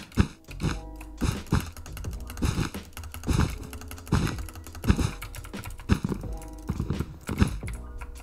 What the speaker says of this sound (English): Sorry, my keyboard was actually pretty loud.